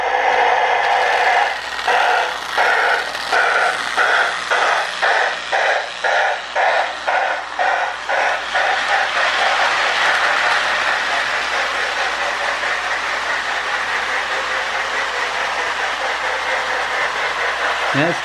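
A Marx 333 toy steam locomotive pulls a work train along a model track, its steady rhythmic clatter and whirring motor loud and close, fading into a continuous hum.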